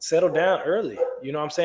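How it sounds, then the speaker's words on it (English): Dogs bark and yip in the background while someone talks continuously over them close to the microphone. "Excuse my dogs in the background, they barking."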